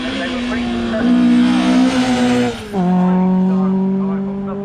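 Nissan 240 RS rally car at the Shelsley Walsh hillclimb, its engine note loud and close with a strong steady tone that dips briefly as it shifts, then climbs again; a commentator talks over it.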